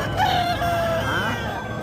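A rooster at a rural market crows once loudly and close, a rising then wavering call lasting under two seconds over a low background murmur.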